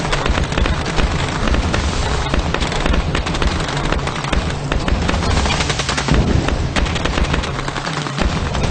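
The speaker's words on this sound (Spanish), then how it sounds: "Se oyó el primer disparo del intento de golpe de Estado." Dense, continuous gunfire during a coup attempt in Guatemala, with rapid bursts of shots overlapping into a sustained roar, loud and unbroken throughout.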